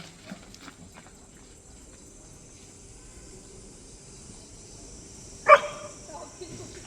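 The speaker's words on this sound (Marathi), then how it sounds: "टॉमी डॉग एन्जॉय करायला लागलेला आहे." A single sharp dog bark rings out midway over a quiet background with faint murmuring voices.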